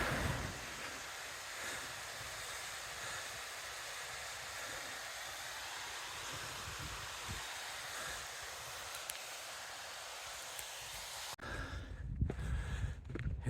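A small mountain stream on a Lake District fell hike near Haystacks and Fleetwith Pike, its flowing water a steady, even rush that holds for most of the clip before a brief rougher, gustier stretch at the end.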